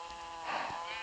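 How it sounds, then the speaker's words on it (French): A single sheep bleats in Minecraft, one short wavering call lasting about a second, clear and alone. "si on va voir mes vaches et mes moutons, ils sont pas très nombreux les moutons"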